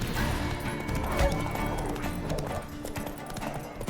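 Roach, Geralt's horse in The Witcher 3 game, gallops along with a continuous, rhythmic clatter of hoofbeats heard close by over a low ambient background.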